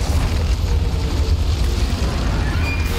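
A hand grenade blast in Resident Evil 5 rolls as a dense, sustained low boom with rumbling debris, loud and close, filling the whole stretch without a break.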